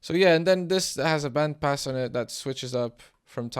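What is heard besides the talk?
No everyday noise stands out behind the speech.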